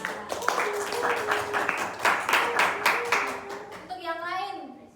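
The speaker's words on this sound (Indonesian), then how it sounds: "kita kasih tepuk tangan buat Novia." Classmates clap for a student in a classroom, a steady patter of hands with children's voices talking over it, ending in a brief sung or chanted tone near the end.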